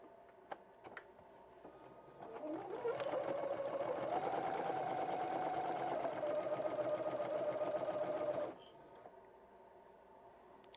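A sewing machine stitches pieces of t-shirt fabric together in one continuous run of about six seconds, with a steady fast whirring hum and rapid needle clatter, close up, starting and stopping cleanly.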